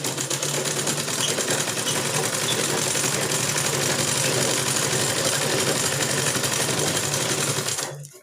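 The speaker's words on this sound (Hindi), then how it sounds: "और यहाँ पे सिलाई लगाने के बाद पक्की सिलाई कर देनी है" A sewing machine stitches a ladies' inner garment, running in one continuous fast mechanical whir at close range for nearly the whole stretch before stopping abruptly at the end.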